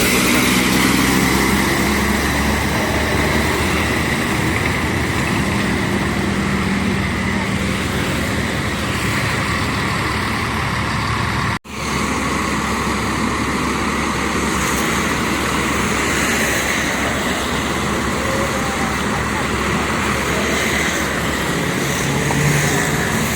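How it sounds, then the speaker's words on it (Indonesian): Batu Mukti Putra buses on the Pekanbaru–Jogja route rumble past on the road, a loud continuous roar of engines and tyre noise with traffic around, steady throughout apart from one brief dropout midway. "Segera melanjutkan perjalanan lagi bus bus Batu Mukti Putra jurusan Pekanbaru Jogja"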